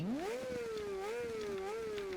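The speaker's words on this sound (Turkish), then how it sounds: "Şu egzoz sesini bir dinleyin gençler" A modified Honda CBR 600 RR motorcycle revs up sharply, then holds a loud, rising-and-falling exhaust drone nearby with slight wobbles in pitch.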